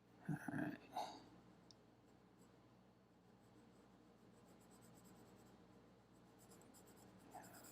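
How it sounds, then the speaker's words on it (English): The side of a pencil lead shades broadly across drawing paper on an old farmhouse sketch, a soft, steady hiss of graphite with a few sharper strokes at the start and near the end. "I'm really intentionally using the side of the pencil again"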